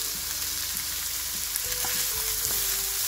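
Garlic and onions sweat in a pan for meatballs in tomato sauce, giving a steady soft sizzle and frying hiss with a few stirring scrapes and clicks, close and continuous, no talking.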